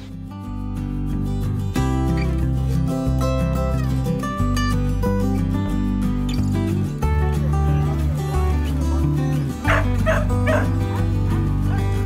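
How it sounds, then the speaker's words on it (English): A dog yips, whimpers and barks beside a canal lock, its calls rising over a steady bed of music that plays throughout. "George had been getting a little barky at locks"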